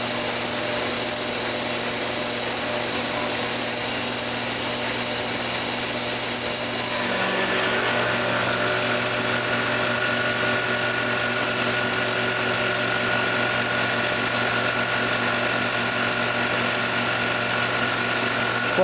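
A milling machine runs a 4-flute cutter through aluminum at 3000 RPM, giving a steady, loud whirring drone with a sustained high whine that grows a little fuller about a third of the way through and holds evenly to the end.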